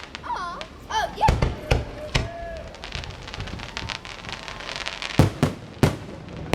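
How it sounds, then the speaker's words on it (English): Firecrackers burst in a series of sharp, loud cracks spread unevenly over several seconds, with faint whistling streaks at the start and quieter background noise between the blasts. "Oh, it's only two firecrackers."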